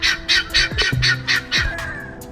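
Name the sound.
backyard birds squawking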